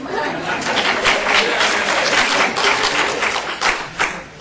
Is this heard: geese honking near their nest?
no